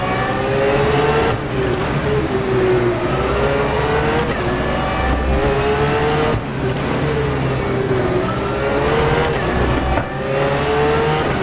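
Porsche 911 GT3 R race car engine in rFactor 2 at Adelaide, loud and close, revving up through gears with rising pitch sweeps and short drops at each shift, continuous throughout without talk.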